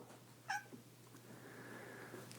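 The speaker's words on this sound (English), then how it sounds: "I guess there's a cat in this scene" A cat gives a short, faint meow followed by a softer, drawn-out cry, heard alone against a low background hum.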